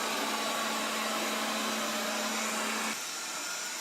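A Proscenic 820S robot vacuum cleaner whirs steadily while working under a sofa, a continuous airy hum with a low tonal drone that drops and softens slightly near the end.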